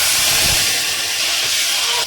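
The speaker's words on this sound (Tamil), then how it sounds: "இப்போ எண்ணெய் வந்து சூடாயிட்டு இந்த வெட்டி வச்ச கத்திரிக்காய் போட்டுக்கலாம்." Cut eggplant hits hot oil in a pan, giving a loud, close, continuous sizzling hiss that holds steady throughout with no voices.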